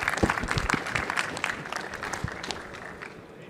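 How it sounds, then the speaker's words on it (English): Audience applause after a poster presentation at a conference: a crowd clapping briskly at first, then gradually thinning and fading over a few seconds, with no talk. "let's give David a round of applause"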